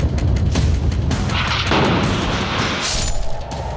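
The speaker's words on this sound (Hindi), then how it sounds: "देखिए कैसे एक मिसाइल आई और बिल्डिंग को पलक झपकते की तबाह कर डाला" A missile strike explodes and brings down a nine-storey building in Beirut, a loud, sustained roaring blast with crashing debris and rumble filling the whole moment, ending in a sharper crack and burst.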